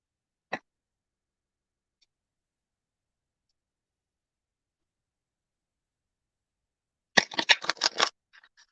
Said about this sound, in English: I'm shuffling my cards too.